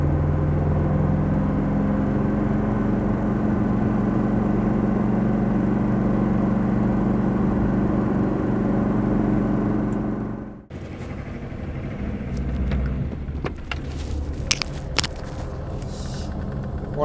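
Car cruising along a road with a steady loud engine drone and road rumble, which cuts off sharply partway through to quieter outdoor noise with faint clatter.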